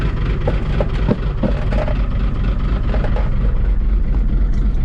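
A 1975 Chevy Stepside diesel truck rumbles loudly and steadily, close by, as it is put in gear with four-wheel drive engaged, with a few clunks over the constant low engine drone.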